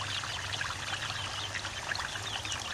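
Apple juice is poured into a cooking mixture in a steady, continuous stream with a bubbling, splashing texture, close and fairly loud, with no one talking.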